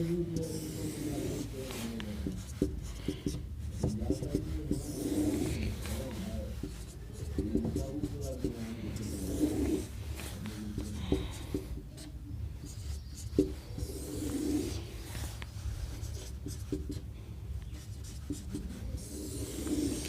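Pen writing by hand on paper while solving a class 10 median maths problem, with continuous close scratching and tapping strokes that run steadily under intermittent talk.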